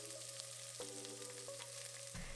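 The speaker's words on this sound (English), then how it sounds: "Now break your rice up vigorously and stir fry to combine the ingredients together." Rice is stir-fried with carrots in an oiled wok for fried rice with XO sauce and shrimp, giving a steady close sizzle with light scraping and tossing noises throughout, ending in a brief clatter.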